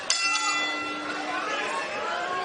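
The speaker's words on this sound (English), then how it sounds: "The bell and round 4" A boxing ring bell rings at a professional bout, one bright clanging strike that rings on and slowly decays over a steady roar of arena crowd noise.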